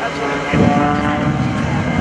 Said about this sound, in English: Mike Wiskus out there on the vertical, rolling the airplane.